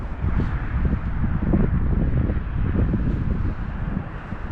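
Cold northerly wind gusting steadily across an open coastline, a continuous low rumbling buffet against the microphone with no voices.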